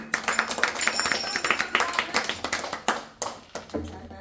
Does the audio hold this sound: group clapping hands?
yes